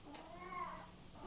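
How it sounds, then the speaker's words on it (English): A single drawn-out cat meow, faint and somewhat distant, rising and falling over about a second against a quiet background. "this cat is crazy"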